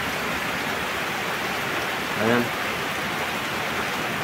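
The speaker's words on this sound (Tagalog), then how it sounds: "Malakas naman ang buhos ng ulan." Heavy rain from Typhoon Goring pours down in a dense, constant hiss during flooding in Occidental Mindoro, Philippines, steady throughout, with a brief spoken word partway through.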